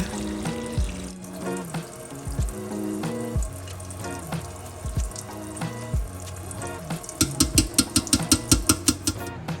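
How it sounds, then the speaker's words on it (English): Tap water runs through a colander while tomato seeds are rinsed, a close, steady splashing and gurgling flow with uneven spatters that turn into a quick run of rhythmic splashes near the end. "we don't have anything holding up the flow of the water coming from out of the colander"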